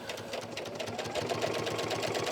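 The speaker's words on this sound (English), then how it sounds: "So I'm just going to get this started." A sewing machine stitching fabric, a rapid even mechanical chatter that picks up slightly and runs continuously, close and fairly loud, with no talk.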